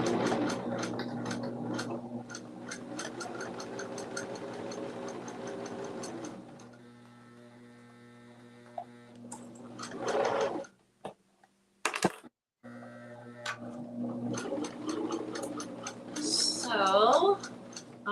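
A hand-cranked sewing machine stitches through thick fabric with a quick, steady ticking rhythm, then falls quiet before a few short mechanical clicks and handling noises return near the end.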